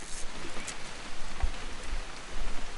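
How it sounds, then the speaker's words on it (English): Steady rain from the video game What Remains of Edith Finch, a soft continuous hiss of falling drops at a moderate, even level with no voices. "It's gonna rain the whole weekend,"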